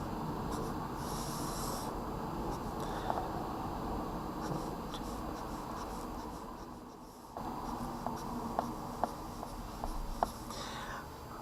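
Pen scratching across paper while roughly sketching a polynomial graph, with soft, close, irregular strokes and small taps running throughout, no talk.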